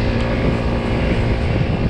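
A Chinese 80cc scooter engine being run in while riding, with a loud, steady droning hum and heavy wind rush throughout and no break in the sound.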